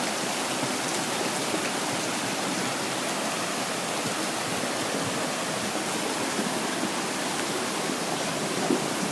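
Rainwater surges down a desert wash after about an inch and a half of heavy rain, a dense, steady roar of rushing water that stays loud and unbroken throughout.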